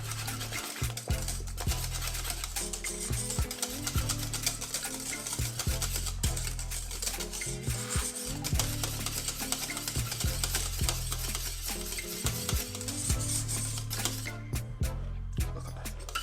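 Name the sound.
whisking cornmeal porridge in a pot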